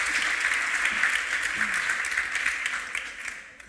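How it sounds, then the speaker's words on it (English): A large conference audience applauds steadily, a dense wash of clapping that holds for several seconds before starting to thin out at the end. "give a very big applause to our three panelists, Simone, Guus, and Beata."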